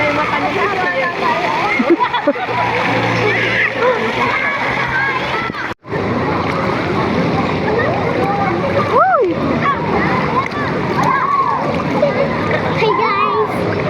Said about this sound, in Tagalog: Lakas ng wave oh.